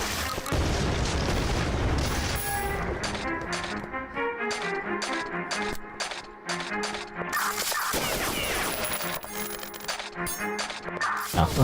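Bullets tumble and clink onto the ground in the video game Beyond Citadel, a loud flurry of metallic coin-like jingles mixed with booming blasts and gunfire from the surrounding fight.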